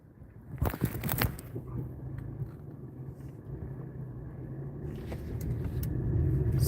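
A car rolls along the road from inside the cabin, a steady low engine and tyre rumble that swells louder toward the end, with a few sharp knocks early on and no talk.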